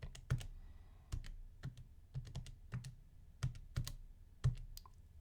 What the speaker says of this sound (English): but I'll just show the keystrokes.